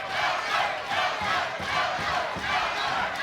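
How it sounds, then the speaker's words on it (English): Boxing crowd in an arena roaring and cheering during a fight, a continuous loud swell that rises and falls in waves with no clear talk over it. "Crowd starting to really get into this with a minute to go."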